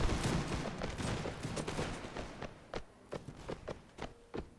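Musket volley from musketeers in a video game: a dense rolling crackle of many shots at the start, thinning into scattered individual reports that pop at irregular intervals.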